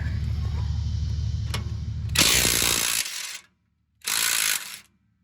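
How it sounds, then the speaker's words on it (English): A loud, harsh mechanical whirring from an impact wrench on a rear shock nut of a 2013 RAM 1500 runs steadily, stops, then comes back for one shorter burst before cutting out. "Let's get the impact on the nut side."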